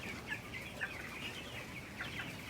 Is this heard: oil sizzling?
no